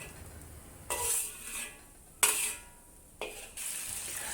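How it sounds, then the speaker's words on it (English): Garlic and ginger sizzle in oil in a wok over low heat, with several bursts of frying hiss as a utensil stirs and scrapes the pan, and no talk. "Sauté the garlic and ginger over low heat until aromatic."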